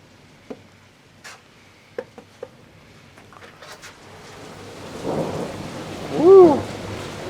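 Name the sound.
thunderstorm with heavy rain and loud thunder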